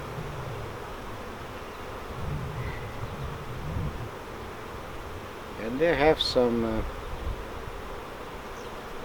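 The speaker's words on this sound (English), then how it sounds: "A lot of new bees." Honey bees in a nuc hive drone softly and steadily during an April hive inspection while a person speaks briefly over the buzzing.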